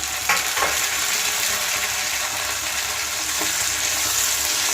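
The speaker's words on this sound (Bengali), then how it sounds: "টমেটো আর কাঁচা লঙ্কা একসাথে ভেজে নিলে কী হয়" Tomato and green chili frying with onion in a hot pan for a duck egg curry, a steady loud sizzle with a few stirring scrapes, close by and without talk.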